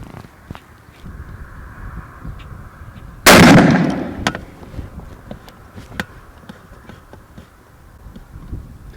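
A Savage 220 rifle fires a single loud shot while being sighted in, a sharp blast with a decaying tail outdoors, followed by quieter ambient ticks and light background noise.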